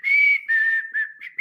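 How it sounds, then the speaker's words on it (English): Someone whistles indoors, a few sustained clear tones broken by short gaps, close and loud with no talk. "Don't whistle inside."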